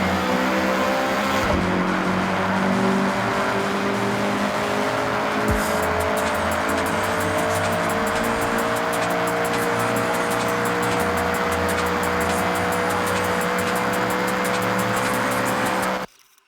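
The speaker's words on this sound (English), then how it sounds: "All right, get the CRX up to speed." A Honda CRX revs hard and accelerates in the racing video game Forza Horizon, its engine note loud and continuous with gear changes and tire noise, running alone until it stops abruptly at the end.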